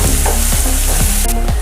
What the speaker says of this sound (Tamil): வெங்காயம் நல்லா டிரான்ஸ்பரண்ட் ஆகிற வரைக்கும் வதக்கி விட்டுக்கோங்க.